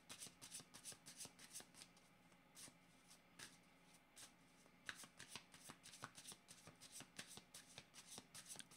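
Tarot cards are shuffled in quiet, rapid rhythmic flicks and riffles, close but faint, continuing steadily with no speech over them.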